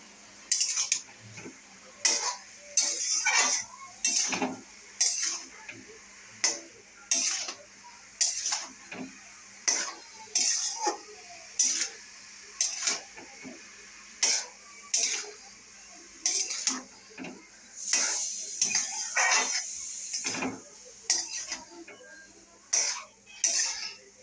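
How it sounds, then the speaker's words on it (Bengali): A spoon stirs a home-cooked dish with green chillies in a cooking pot, making a steady run of close scraping and clinking strokes against the metal at an even, repeated rhythm. "আর ভালো করে আবার নাড়াতে হবে।"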